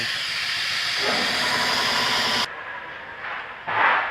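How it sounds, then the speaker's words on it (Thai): A fuel flushing machine forces wrongly filled fuel out of a Nissan Tiida, giving a steady loud hiss of rushing fluid and air that cuts off abruptly, followed by quieter intermittent hissing bursts. "เราต้องใช้เครื่องฟัดจิ้งนะครับเพื่อดันน้ำมันที่ผิด เติมมาผิด"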